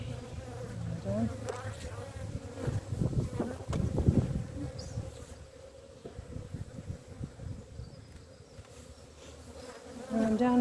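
Honey bees buzz around an open beehive, a close, fluctuating hum of many insects with individual bees droning past, steady and alone throughout.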